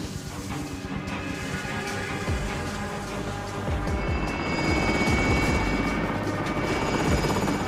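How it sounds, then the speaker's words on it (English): An attack helicopter in the video game Warzone keeps up a steady rotor drone and whine for several seconds, growing slightly louder toward the end, with no speech. "Hostile attack chopper carrying cash."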